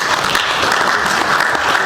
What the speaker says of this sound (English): big clap for the partner